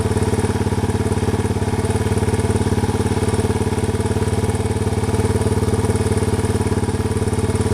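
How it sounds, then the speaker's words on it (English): A Yamaha TW200 motorcycle with a fuel-leaking carburetor idles close by, a loud, even, unbroken engine drone with no change in pace. "I'm gonna let it idle"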